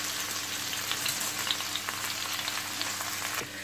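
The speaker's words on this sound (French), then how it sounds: "Donc sur un feu moyen, je vais faire revenir la pomme de terre." Potato, ginger, garlic and shallots fry over medium heat in a sauté pan, making a busy, even sizzle dotted with small crackles and pops, close and alone, before the sound drops off abruptly near the end.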